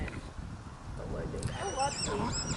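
A miniature horse neighs and whinnies in the second half, its call rising and wavering over a steady background of low rumbling and faint outdoor noise.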